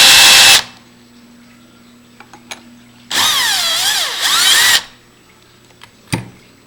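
A power drill unscrewing screws from a lever handle plate, with two loud whirring bursts whose pitch rises and falls, separated by quiet and small clicks, close up.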